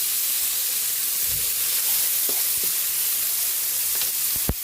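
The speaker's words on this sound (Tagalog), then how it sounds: "Gisa na po natin yung ating bawang, sibuyas at kamatis." Garlic, onion and tomato sizzle steadily in a hot pan for sautéed mung bean stew, a continuous bright frying hiss with a few soft stirring clicks and a sharper clatter at the end; no talking.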